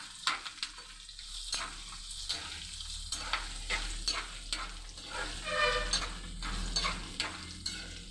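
Garlic, chana dal, mustard seeds and urad dal fry in a pan, a moderate crackling sizzle with frequent spatula stirs and clinks, fairly close and without talk.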